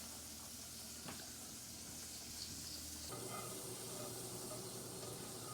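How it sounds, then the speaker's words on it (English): A steady, quiet sizzle of fresh pork side bacon frying in a pan continues without pause, with a faint hiss and no voices. "I'm going to finish frying this up"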